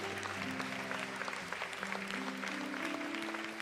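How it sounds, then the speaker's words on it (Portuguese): Church congregation applauding during a service, steady clapping heard under sustained musical tones from an organ or keyboard, moderately loud and continuous throughout. "Você pode aplaudir a Jesus essa manhã?"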